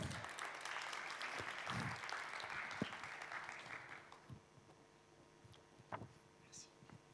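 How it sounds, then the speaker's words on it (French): Conference audience at a communications festival clapping loudly for an arriving guest, a dense burst that fades out after about four seconds into quiet room tone with a few isolated knocks and faint murmurs. "qu'on applaudit très fort"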